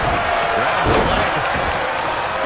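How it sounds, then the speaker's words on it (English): A dense, roaring wrestling arena crowd cheers steadily at high volume, with a loud slam-like thud partway through and a commentator's voice faintly mixed in. "The sound of this crowd is deafening"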